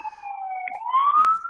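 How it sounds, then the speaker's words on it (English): An ambulance siren wails in a smooth sweeping tone, loud and close, with a brief sharp click near the end. "Nah, that's the ambulance"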